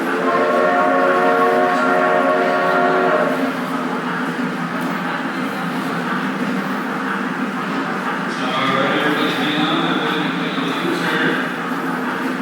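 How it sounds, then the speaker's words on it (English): Loud train horn blasting as a train makes a tight U-turn near downtown Brockville, Ontario, with long sustained tones at the start and again near the end over rail rumble. "Train is U-turning. That is a tight U-turn, but he's pulling it off expertly."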